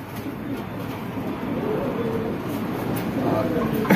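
Racer pigeons cooing in cages at a pigeon sale, a soft, continuous low murmur of coos with a steady crowd-like background hum and indistinct voices.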